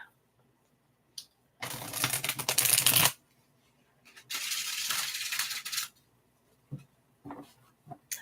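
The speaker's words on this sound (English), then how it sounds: "I like shuffling." Tarot cards being shuffled by hand, two separate bursts of crisp riffling and flapping, each about one to one and a half seconds long, close and fairly loud, with quiet pauses and small taps between them.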